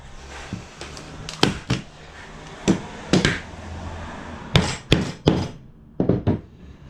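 A hammer tacks nails into the frame of a Bali painting during reframing. Sharp, close knocks come in small clusters of two or three with pauses between them, and there is no talk.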